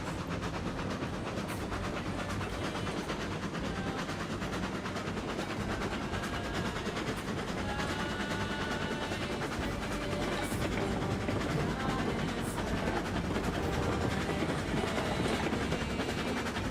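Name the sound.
train derailing in a video game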